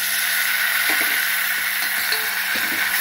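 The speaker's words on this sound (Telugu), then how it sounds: "చూసారు కదా, ఉల్లిపాయలు వేగుతున్నాయి కదా." Onions and mango pieces fry in a pan with a constant close sizzle, and faint stirring clicks and taps run through it without any speech.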